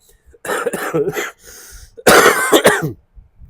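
Two bursts of harsh, close coughing, one after the other, with a short raspy pause between them.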